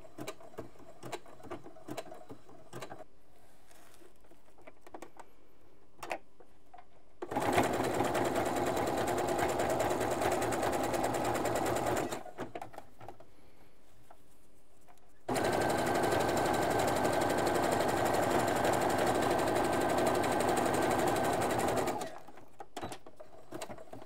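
A sewing machine stitching menstrual underwear in two long, steady runs of rapid mechanical chatter separated by a pause, with quieter handling sounds and light clicks before and after.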